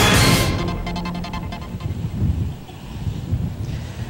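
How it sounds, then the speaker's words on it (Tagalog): Strong gusts of wind buffet the microphone along the Manila Bay baywalk during heavy rain, a loud roaring rush that eases slightly and then swells again in uneven surges, with no talking. "malakas pa rin ang hanging umiihip dyan sa Baywalk sa Maynila"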